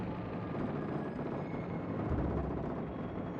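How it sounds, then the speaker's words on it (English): Torpedo bombers flying in during a World of Warships Legends naval battle, a steady broadband aircraft drone held at an even loudness throughout, with a low rumble swelling near the end and no talking. "coming in with his torpedo bombers"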